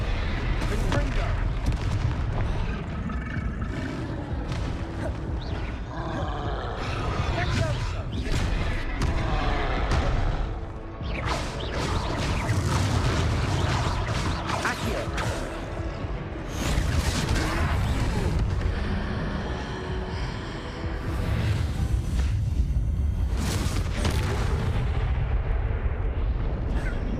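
Repeated Confringo blasting spell explosions in the video game Hogwarts Legacy, heavy booming blasts and thuds in rapid succession over loud battle noise, with voices occasionally heard underneath.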